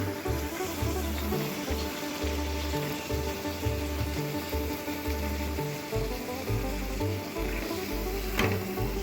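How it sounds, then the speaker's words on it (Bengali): Luchi, puffed fried flatbread, frying in hot oil with a dense, continuous bubbling sizzle that stays loud and close throughout, no voices over it. "লুচিগুলো আমি এক করে ভেজে নিলাম।"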